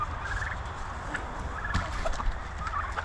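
Small turkeys on a farm yard make soft gobbling calls over a steady background of outdoor noise, fairly faint and without talk.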